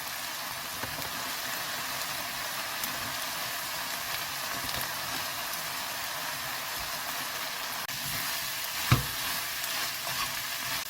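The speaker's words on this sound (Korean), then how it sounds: "근데 이렇게 어느 정도 볶은 다음에 들깨가루를 넣어 줄 거예요" Butterbur stalks sizzle and crackle steadily in a hot pan, a dense continuous frying hiss with an occasional scrape of stirring.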